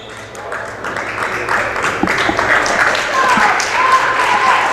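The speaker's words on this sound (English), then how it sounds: "DeMonte Brown gets a smattering of clapping." Scattered clapping from a crowd at a college men's basketball game rises gradually, heard under a commentator's continuous talk.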